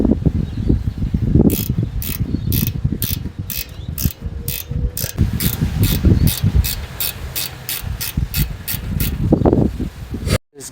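A 13mm ratchet tightens brake caliper bolts on a Ford Ranger during a front brake pad change, giving rapid, repeated close clicking bursts with pauses and occasional scraping of metal parts.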